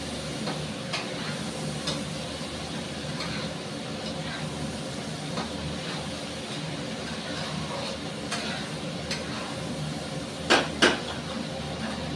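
Chicken curry sautés in a pan with a steady, even sizzle and occasional stirring scrapes, while spice containers are tidied nearby, giving a couple of brief clacks near the end.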